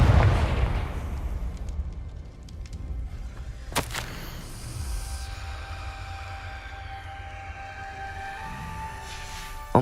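In Hogwarts Legacy, a Confringo blasting spell detonates with a sharp, loud boom. Rumbling debris and a low ringing resonance trail away behind it, with a few lighter crackles and a last burst at the very end.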